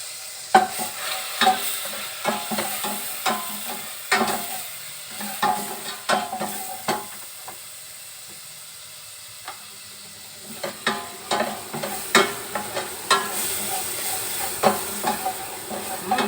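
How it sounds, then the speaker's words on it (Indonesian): Close sizzling of garlic sautéing in a pan, with repeated scraping stirs at an uneven rhythm and a quieter pause midway. "Kita tumis dulu bawangnya,"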